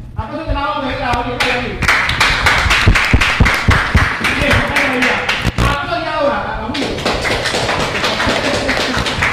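Crowd at a lyrical rap battle between two rappers claps loudly in sharp, uneven bursts, with voices shouting and talking over the applause throughout.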